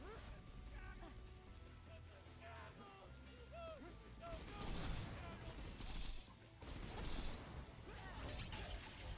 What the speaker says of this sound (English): the Riveter fires a volley of micro missiles